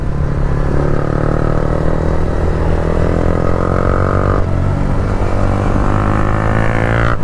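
Motorcycles racing along a road make a loud, continuous engine drone that climbs in pitch through the gears, heard close and without a break.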